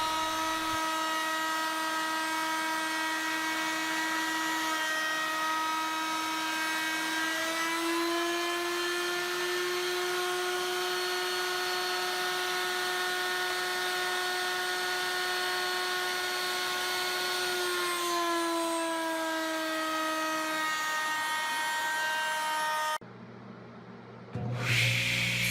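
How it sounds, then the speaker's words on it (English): A handheld router cuts a shaker-style profile in padauk and tiger maple, giving off a steady whine whose pitch dips and rises as it works. It runs continuously for over twenty seconds, then stops. "you can just cut these on a handheld router"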